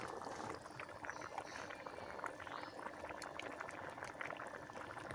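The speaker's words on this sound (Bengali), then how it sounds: "একেবারে ঝোল টকবগে ফুটে গেছে" A fish and eggplant curry broth bubbles at a rolling boil, a dense continuous simmering and popping texture heard close but fairly quiet, with no one talking.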